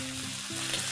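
Vegetables sizzle in Szechuan sauce and tomato ketchup as they are stirred in a pan for chilli idli, a steady close frying hiss with faint stirring, no voices.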